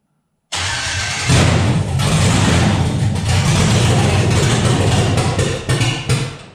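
A Chevy LUV truck engine, fitted with a Holley Terminator X system, fires up in a burst and settles into a loud, steady running roar close by, with a few brief revs near the end.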